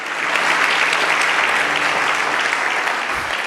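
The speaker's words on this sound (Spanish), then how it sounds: "Aplaudimos el nombre de nuestro Dios" Congregation in a church claps together in a sustained, even round of applause, dense and continuous from start to finish.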